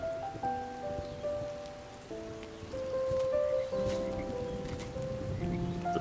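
Rain falls on leaves in a steady, soft outdoor patter that holds throughout, with gentle sustained tones drifting underneath and no speech.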